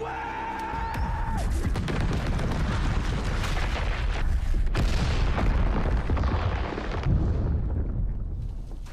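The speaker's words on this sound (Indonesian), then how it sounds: "sebelum ledakan besar terjadi" A huge, rumbling explosion in the film The Tomorrow War, with heavy low booms and crackling debris, loud and sustained, preceded by a brief tonal whine.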